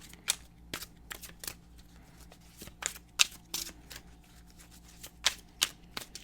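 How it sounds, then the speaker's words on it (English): Essential oil oracle cards are pulled and shuffled in a quiet room, with a scattered series of crisp, close riffles and slaps spaced irregularly. "I'm going to pull some of the essential oil cards here for you guys."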